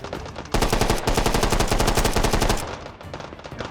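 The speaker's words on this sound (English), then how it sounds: "Oh goodness, we're already taking fire." Rapid enemy gunfire in the H3VR shooter game: a loud sustained burst of automatic fire rattles on for about two seconds, then trails into fainter shots and echoes.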